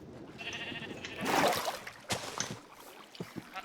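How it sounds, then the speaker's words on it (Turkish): Sheep bleat a few times in a modded survival video game, amid splashing water sounds and brief clicks, the bleats fairly close and moderately loud. "Şurada koyunlar var."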